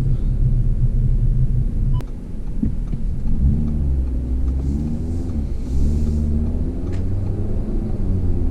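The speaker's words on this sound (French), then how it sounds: "on entend tout de suite le moteur un peu rocailleux, les 5 cylindres qui parlent" An Audi RS3 sedan's five-cylinder engine idles with a gruff, uneven rumble, then revs up in several rising and falling surges, loud and close.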